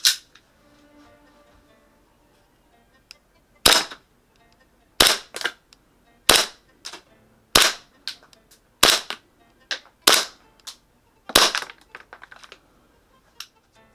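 Sharp, loud shots from an EMG 2011 Staccato gas blowback airsoft pistol running green gas and .20 g BBs, about eight evenly spaced cracks fired alone after a quiet opening.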